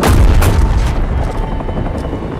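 A destroyed target explodes in Call of Duty Modern Warfare with a heavy, deep boom right at the start. The rumble then fades slowly into a low, lingering roar.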